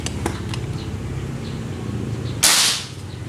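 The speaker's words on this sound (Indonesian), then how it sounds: "Tembakan pertama pakai Premier" Faint clicks and low murmuring, then a single sharp, hissing pop of a 90cc 3000 PSI airsoft gun firing a Premier pellet through a chronograph, quickly fading.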